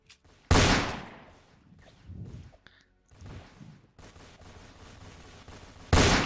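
Gunfire in the Roblox Fortnite video game: a loud blast opens, softer shots follow, then a rapid, dense stretch of firing ends in another sharp burst.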